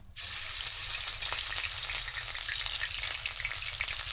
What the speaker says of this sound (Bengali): তেল গরম হয়ে গিয়েছে এখন বেটে রাখা সবগুলো মশলা দিয়ে দেব প্রথমে দিয়ে দেব পেঁয়াজ বাটা